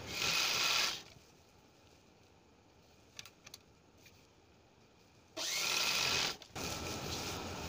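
A sewing machine stitches a folded blouse strip in two bursts, a steady whirring run at the start and another near the end, with a quiet pause and a few faint clicks between.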